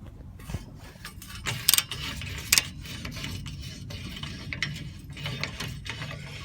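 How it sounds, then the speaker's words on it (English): A socket ratchet works on a car's O2 sensor, giving close, uneven clicks and a few sharp metallic bursts as it breaks the sensor free. "So, all right, breaking free the O2 sensor."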